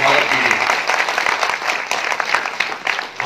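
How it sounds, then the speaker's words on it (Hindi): An audience at a political gathering breaks into loud, close applause, with dense claps giving way to a looser patter, and voices are heard beneath it. "एक बार जोरदार तालियों की गड़गड़ाहट से आपको उनका स्वागत कीजिए।"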